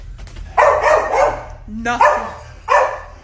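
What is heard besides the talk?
dogs barking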